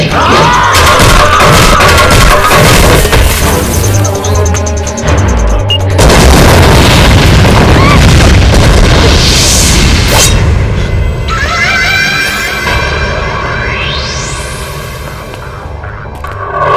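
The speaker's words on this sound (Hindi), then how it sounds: "अमरी बहन को बम से उड़ाएगा कमीना कहीं का" A bomb blast in a Bhojpuri action film scene, with loud, sustained booming and crashing debris filling the mix, then a dramatic rising whoosh as the roar slowly fades.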